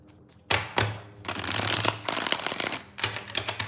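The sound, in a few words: shuffling a deck of tarot cards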